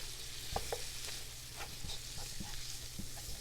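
Minced food sizzles and fries in a hot pan, a constant crackling hiss broken by a few scraping stirs of a utensil, close and fairly quiet.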